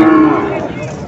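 A cow lets out a short, close moo that fades quickly at the Jonggol livestock market, with faint background noise around it.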